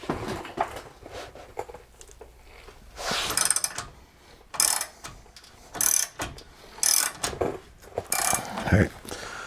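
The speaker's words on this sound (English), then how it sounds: "the front bolt's now spinning. Go ahead and get a wrench on that." A wrench working a front suspension bolt on a neglected truck front end, giving repeated ratcheting clicks in short mechanical bursts with pauses between them, close and fairly loud.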